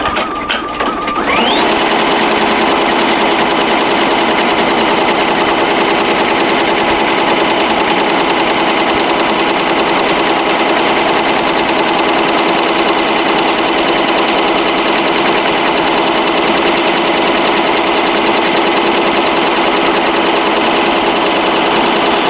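A Tajima SAI 8-needle embroidery machine sews a tack-down stitch, a loud, fast, continuous mechanical rattle that holds steady after a brief start, with no talking.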